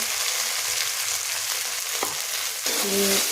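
Turmeric and spices fry in hot oil with a loud, steady sizzle that fills the whole moment, broken near the end by a brief clink and a short tonal ring from the pan or utensil.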